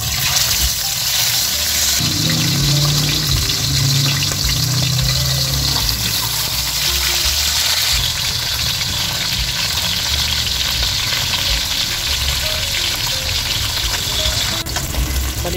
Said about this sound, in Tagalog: mainit na yung ating mantika. Kaya ilalagay na natin yung ating tilapia.